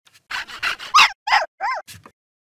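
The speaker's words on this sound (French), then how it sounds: "C comme chien." A series of short dog barks, yips and a small whimper from a children's educational PC game, close and clear against silence, about seven quick bursts in a row.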